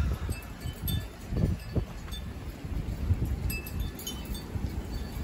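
Strong gusty wind during a rainstorm buffets the microphone in uneven surges and rumbles, with faint clinks and rustling in the background and no speech.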